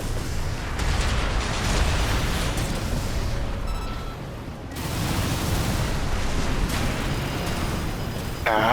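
Enemy missiles pounding a mech in Armored Core 6, loud rolling blasts and bursts in dense succession, a brief lull midway, then more impacts and a sharp closing hit, no speech.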